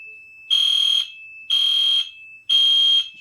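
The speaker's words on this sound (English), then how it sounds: "I like how the strobe and the horn syncs up." A fire alarm horn sounds during a small alarm system test, blaring in three evenly spaced half-second blasts with a steady tone between them, loud and close with no talking.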